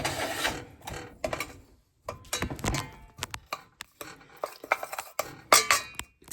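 Dirty dishes and a spoon clatter together as they are piled into a pot while soup is being made, giving irregular clinks and knocks of cutlery and crockery at close range with no talking.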